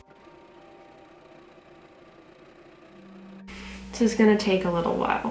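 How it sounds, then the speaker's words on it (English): A sewing machine hums steadily while running a long basting stitch around a dress, then someone speaks over the continuing machine noise. "carefully sew a very, very long line all the way around of a basting stitch"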